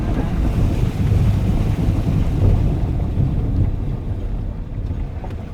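A Land Rover Freelander 2 drives through deep water on a green lane, a long, steady rush of churning water with heavy low rumble, continuous and loud, slowly easing toward the end.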